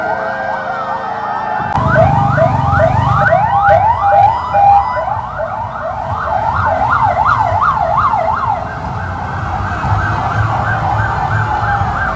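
Ambulance sirens wail in overlapping, rising and falling sweeps during a Yogyakarta–Solo ambulance convoy held in solidarity with Palestine, loud and continuous, with a low vehicle rumble joining soon after the start.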